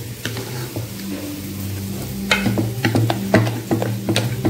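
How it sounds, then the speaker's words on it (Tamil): Vegetables for sambar sautéing in a pan, soft sizzling under repeated ladle stirs and scrapes that grow louder and more frequent toward the end. "இப்போ நல்லா வதக்கிக்கலாம்."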